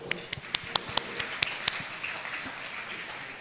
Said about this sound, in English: So I'm gonna give him a round of applause.